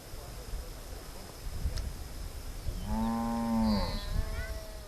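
On a farm, a cow lets out one drawn-out moo lasting under a second, heard at moderate distance over rustling outdoor background noise, with faint voices nearby.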